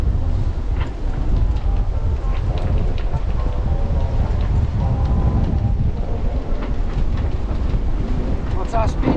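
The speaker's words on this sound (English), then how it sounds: "the wind force increases and the wave height increases" Strong wind roars across the microphone aboard a heeling sailing boat off Scotland in choppy seas at around 24 knots of wind, a constant loud buffeting rush with slapping waves and no clear talk.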